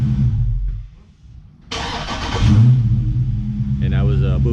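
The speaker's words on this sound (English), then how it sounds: "that's the remote start of the car" A Dodge Charger starts via remote start: a quiet lull, then a sudden cranking catch and a settling idle rumble, with a person talking over the running engine near the end.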